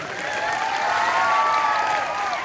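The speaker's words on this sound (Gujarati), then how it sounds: "એને એકવાર જોરદાર તાળીઓના ગડગડાટથી વધાવો" Steady applause from a gathered audience of guests and students at a school Independence Day function, filling the whole short stretch at moderate loudness with no break, while a tonal ringing hum sits just above the clapping.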